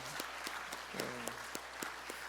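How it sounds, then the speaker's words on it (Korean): Clapping at an evening revival meeting in a Korean church, with separate claps falling in an even, slightly spaced rhythm over a low hum and a brief murmur of voices. "우리 박수해 주시기 바랍니다"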